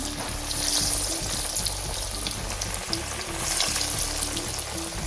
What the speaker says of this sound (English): And you put it in the fry pan, okay?